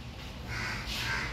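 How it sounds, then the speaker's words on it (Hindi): A crow caws twice outdoors near a home in Lucknow, two drawn-out calls at moderate distance over low street rumble, with no talk. "कौआ बोल रहा है, लग रहा है मेहमान आएगा।"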